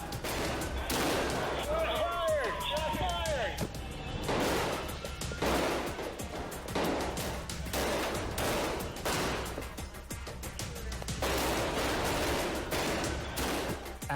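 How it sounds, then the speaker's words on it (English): Rapid, loud bursts of gunfire during a courtroom shootout between an active shooter and police officers, the shots coming in dense, repeated volleys with shouting voices under the barrage. "After a barrage of bullets, Adi realizes he's outgunned."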